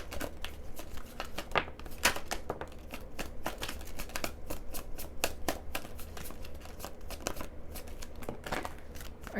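Twin Flame Journey Oracle cards are shuffled by hand close up, a rapid run of crisp riffling flicks and soft papery slaps repeating unevenly at moderate volume, with no talking.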